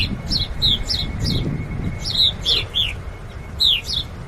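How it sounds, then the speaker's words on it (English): Several small birds chirp in short, bright bursts spread through the scene, near and clear over a steady low rumble of outdoor background noise. "Hi, birds."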